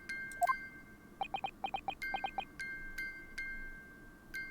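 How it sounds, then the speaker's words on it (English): Chiming music box in the Ace Attorney Chronicles video game, playing a rhythmic pattern of bright, high bell-like notes in quick clustered groups, clear and alone. "Just because this is a music box, it doesn't necessarily mean the sounds we're hearing are music."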